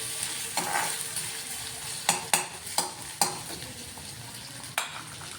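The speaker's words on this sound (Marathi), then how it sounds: "काकडी परतली आता छान मऊ झाली" Cucumber sautés in a pan for a Maha Shivratri fasting dish, with a soft sizzle under scattered sharp clinks and scrapes of a spoon stirring against the metal.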